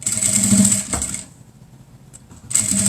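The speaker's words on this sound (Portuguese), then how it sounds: "eu tô passando essa costura com menos de um pé de máquina, já vai fechando" A sewing machine stitches a 3D cloth face mask in a fast, close, whirring run, stops for about a second, then starts up again at the same rapid pace.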